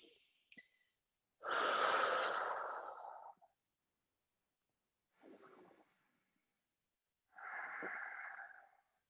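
A yoga instructor exhales while folding forward: long, airy, breathy exhalations, close and fairly soft, separated by silences, with a short earlier breath sound.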